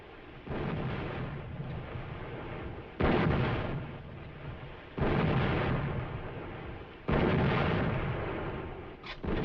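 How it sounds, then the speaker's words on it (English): Heavy naval guns from a flagship fire in a 1942 wartime battle scene, a series of deep, booming blasts each rolling on into a long rumble, loud and fairly close with no speech. "Get a message through to the flagship to cease firing."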